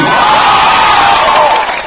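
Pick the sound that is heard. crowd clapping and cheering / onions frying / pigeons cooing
crowd clapping and cheering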